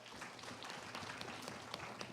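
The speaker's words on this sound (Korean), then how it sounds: "아, 박수 부탁드리겠습니다." Soft, distant applause from a class audience during a fashion styling session. An even patter of many hands continues at a low level throughout.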